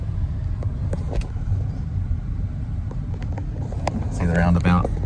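A car driving around a roundabout, heard from inside as a steady, loud, low road and engine rumble, with a person's voice briefly rising over it near the end.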